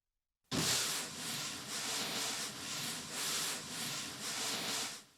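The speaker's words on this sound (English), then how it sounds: "It is a long brush sound" A long, sustained brush drum sweep from a Roland XV5080 synthesizer, a steady scraping hiss with a gentle pulsing swell roughly every second, loud and continuous after a sudden start.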